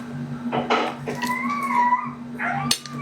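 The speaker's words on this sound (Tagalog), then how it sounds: "Ang ingay ng mga aso eh." Several dogs bark and yelp nearby in a short, irregular burst, with a drawn-out whine in the middle, over a low steady hum and faint clinks of dishes.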